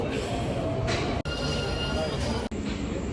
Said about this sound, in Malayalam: ട്രെയിൻ പോയി